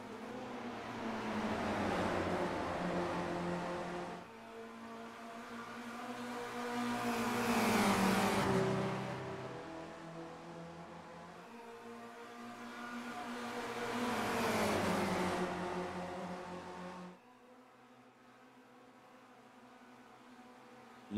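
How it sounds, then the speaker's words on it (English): Race cars running nose to tail around the Nordschleife in a sim racing game, their engines buzzing in waves as each pack roars closer and fades away, with one long swell after another and a quieter stretch at the end. "all these cars are just nose to tail at this point as they're working their way around"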